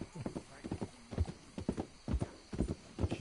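Steady clip-clop of horse hooves trotting close by, with a brief horse whinny mixed in over the rhythmic footfalls, in the video game Red Dead Redemption 2.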